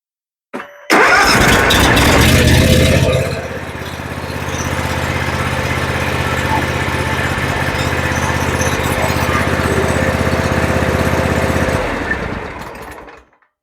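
A lawn mower raised on jack stands after a DIY repair cranks and catches, then runs steadily and loudly close by for about eleven seconds before stopping, with no talk over it.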